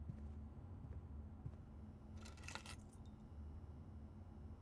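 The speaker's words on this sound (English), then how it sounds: "Car keys." Car keys jangle briefly as they are picked up in the Blue Prince video game, a short metallic rattle over a low steady ambient hum with no talking.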